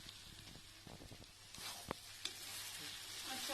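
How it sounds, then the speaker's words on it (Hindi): Chowmein stir-fries in a non-stick kadhai with a low, steady sizzle, punctuated by a few sharp scraping and tossing knocks from stirring as the frying grows slightly louder. "इसे बस मैं 1 मिनट भूनूंगी"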